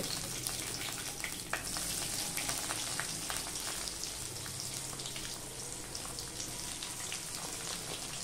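Chopped onion dropped into hot oil in a pan with bay leaf sizzles and crackles steadily, a dense frying hiss with scattered pops running throughout, close and fairly loud with no talking.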